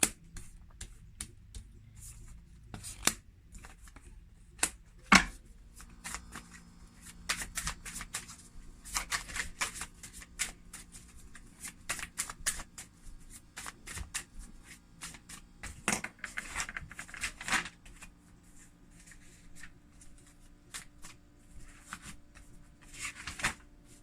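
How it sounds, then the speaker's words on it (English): Repeated crisp riffling and slapping bursts of tarot cards being shuffled, close and dry, coming in irregular clusters with quiet pauses between them. "So we're just going to give the cards some shuffle"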